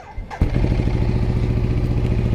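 A 2012 Ducati Diavel motorcycle engine cranks briefly and fires up, settling into a loud, steady, throbbing idle close by with no talk over it.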